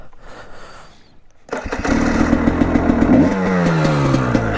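A carburetted motorbike is started with the choke on: quiet clatter gives way to an abrupt catch at about one and a half seconds, then a loud, steady, throbbing idle that holds close by to the end.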